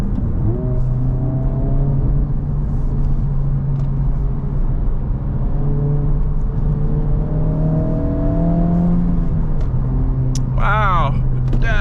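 A 2024 Honda Civic Type R FL5, front-wheel drive, accelerating hard from the driver's seat, with a steady engine drone and rising harmonic sweeps as it climbs through the gears, heard loud and continuous, with a brief sharp squeal near the end.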